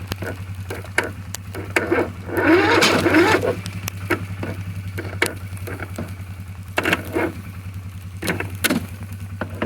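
Husqvarna engine cranking on a frozen cold start, a steady low starter drone with rapid rhythmic chugging and a brief louder surge, no catch.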